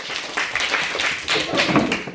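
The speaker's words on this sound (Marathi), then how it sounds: "पहिलीवाले त्यांच्यासाठी टाळ्या सगळ्यांनी टाळ्या द्यायचे" A classroom of first-to-fourth-grade schoolchildren clapping for classmates after a game, dense, fast, slightly uneven applause close by, with voices mixed in among the claps.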